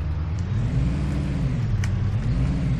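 A truck engine in the video game Farming Simulator 15 revs steadily, a loud low droning rumble that rises and falls slightly in pitch, with no talking.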